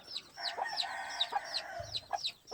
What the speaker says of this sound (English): This is one of the pure Bennett hens.